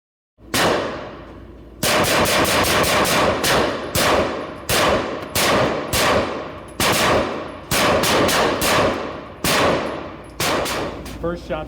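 A Sig Sauer SP2022 pistol fires rapid strings of sharp, loud shots, with triple taps, quadruple taps and a burst, each followed by a ringing echo. The shots are close and there is no talk.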